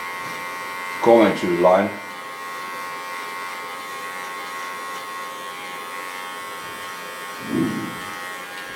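Electric hair clipper buzzes in two short close bursts near the start as it cuts hair at the back, then briefly again near the end; a person speaks over the first burst.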